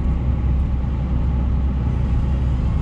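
A car drives on the road toward Jurmala and Tukums in winter, giving a steady, loud, low interior road rumble and engine drone with no pauses.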